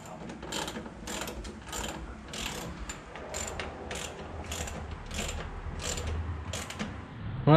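A ratchet tightens bolts on a brake master cylinder mounted to a car's firewall, with bursts of rapid clicking strokes repeating steadily and close by, and no talking.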